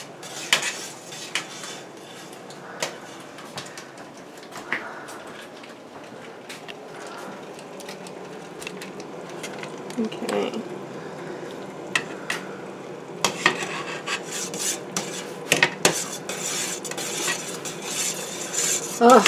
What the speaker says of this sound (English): Now I'm going to stir in the pectin.